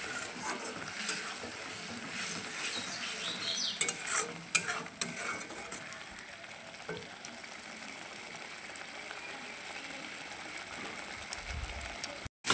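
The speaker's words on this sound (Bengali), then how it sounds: "এবার মশলাটাকে একটু ভালো করে কষিয়ে নেব।" Spice paste being fried and stirred in a pan for Bengali potol chingri, a steady close sizzle with scraping stir strokes and a few sharper clinks near the middle, no talk.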